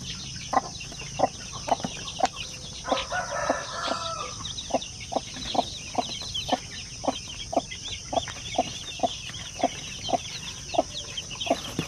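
Zampen, Basilan and Shamo Aseel chicks peep in a steady run of short, bright calls, about two each second, close by over a faint background hiss with a brief rustle near the start.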